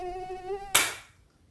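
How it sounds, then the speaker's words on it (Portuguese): A simulated tinnitus tone: a thin, steady high ringing with harmonics, heard alone for about three quarters of a second before a sharp burst cuts in and fades to silence. "A sensação de zumbido"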